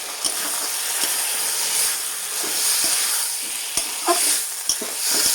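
Stirring a potato and drumstick curry in poppy seed paste, with a steady sizzle and hiss under repeated scraping strokes of a spoon against the pan, close and fairly loud, no talk.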